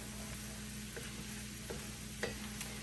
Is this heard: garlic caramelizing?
yes